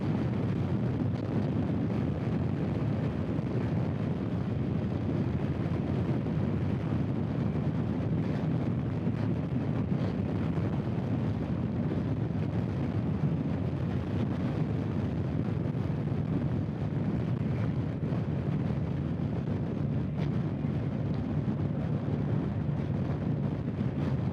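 Steady, loud wind buffeting roars across the microphone while a motorcycle rides on the road, a constant close rush with no break and no voices.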